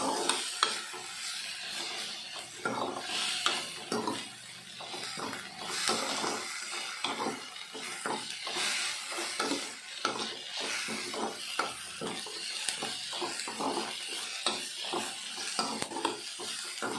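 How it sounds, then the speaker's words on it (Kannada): Coriander leaves, mint leaves and spices frying in oil for homemade masala puri, a continuous close sizzle broken by rapid repeated stirring scrapes of a spoon against the pan, with no talking. "ಈ ರೀತಿ ಕೊತ್ತಂಬರಿ ಸೊಪ್ಪು, ಪುದೀನ ಸೊಪ್ಪು, ಮಸಾಲೆ ಪದಾರ್ಥಗಳನ್ನೆಲ್ಲ ಎಣ್ಣೆಯಲ್ಲಿ ಚೆನ್ನಾಗಿ ಫ್ರೈ ಮಾಡಿದ್ರೆ ರುಚಿಯಾಗಿರುತ್ತೆ"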